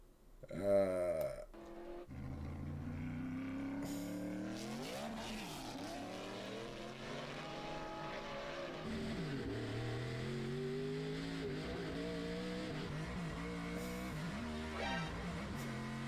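A car engine revs hard and climbs through the gears, with one fumbled shift making the revs flare and dip before it pulls on, loud and continuous with tyre noise.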